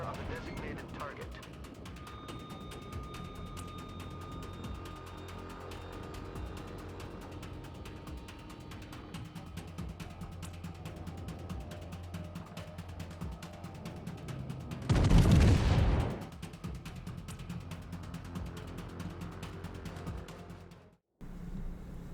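A single heavy naval gun blast in a World of Warships battle booms out loud over a constant low rumble of engine and sea noise, and a voice talks at points.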